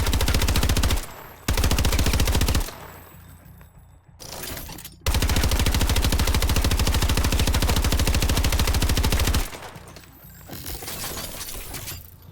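Rapid SMG gunfire from Call of Duty Advanced Warfare rattles in long loud bursts, broken by brief pauses and a quieter stretch of mechanical handling between volleys, with no talk.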